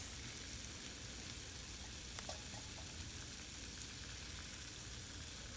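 Horse mackerel sizzles steadily in a pan over moderate heat with little oil, a dense continuous frying hiss close up, with faint stirring clinks and no voices.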